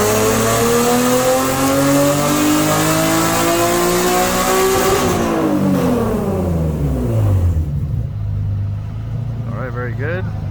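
A tuned car on a chassis dyno makes a full-throttle pull, its engine loud and close as it climbs steadily in pitch, then drops sharply as the throttle closes and winds down. A voice can be heard near the end.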